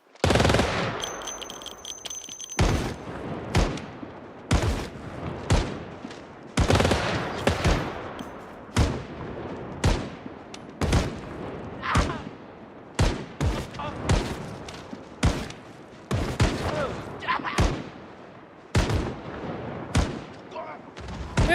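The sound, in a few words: gunfire shooting at cops in a video game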